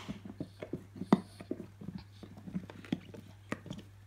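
Close, irregular crunching and gnawing as a dog chews on a crunchy toy, with sharp clicky bites scattered over a low background hum.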